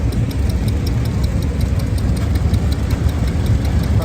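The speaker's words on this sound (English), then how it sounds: "Little mini tractor driving a stone crusher." A mini Marshall tractor engine drives a stone crusher, chugging loudly and steadily at idle-like pace with a fast knocking tick throughout, close by, with no voices.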